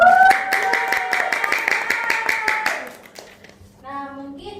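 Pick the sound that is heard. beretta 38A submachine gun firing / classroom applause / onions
classroom applause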